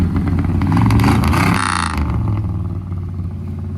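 A 1968 Dodge Polara with a swapped four-barrel intake and carburetor idles loudly nearby, its V8 rumble briefly rising in a rev before settling back to a rough, steady idle.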